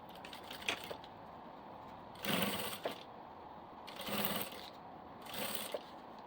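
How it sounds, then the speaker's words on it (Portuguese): Domestic sewing machine stitching bias binding onto a diaper bag in three short bursts separated by quiet pauses, close and clear with no talking. "vou passar uma costurinha em cima dessa marcação aqui"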